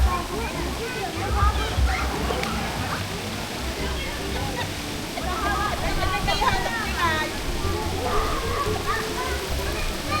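Sea water washes and sloshes steadily beside a resort swimming pool in light drizzle, with a continuous splashing rush under faint, intermittent voices.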